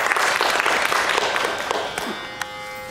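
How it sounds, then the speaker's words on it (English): An audience claps at a Carnatic music and dance festival, a dense burst of applause that fades out after about two seconds, followed by a brief quiet tail. "Let's give her a applause."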